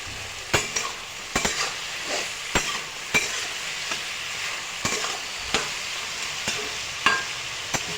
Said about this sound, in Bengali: এখন কেটে রাখা লঙ্কাগুলোও দিয়ে দিচ্ছি।